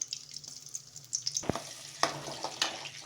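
Finely chopped garlic, ginger and green chili dropped into hot oil for soya cutlets, a soft sizzle punctuated by sharp spatula taps and scrapes against the pan, close and fairly quiet, without speech.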